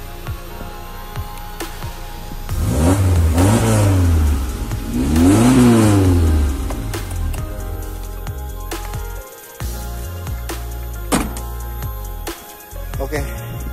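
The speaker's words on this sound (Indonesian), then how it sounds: "itu dia sekilas untuk suara mesinnya" A Suzuki Carry 1.0 engine idles low and steady, then revs up twice in rising and falling sweeps before settling back to idle, loud and close, with brief gaps and a few clunks near the end.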